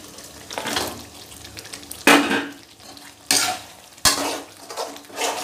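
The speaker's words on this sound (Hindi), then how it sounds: "और इनको अच्छे से भूने, अभी फ्राई करें मतलब इसमें मसाले में भूनेंगे इसको" Jackfruit pieces fry in spice masala in a pan, stirred with a metal spoon: a low sizzle under repeated sharp scrapes and clatters against the pan, close by, with louder bursts at intervals.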